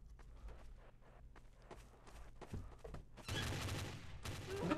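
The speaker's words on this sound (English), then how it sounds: "Who the fuck's shooting?" Gunfire in the video game Garry's Mod (Trouble in Terrorist Town), a rapid fusillade of shots that swells loud and dense midway through the clip, with footstep-like clatter beneath.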